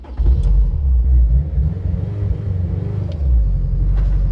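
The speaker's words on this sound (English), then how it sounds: "I want to take this thing for a spin now" A modified Honda S2000 drives with a loud, steady low engine rumble throughout, close and continuous with slight swells, and no voices.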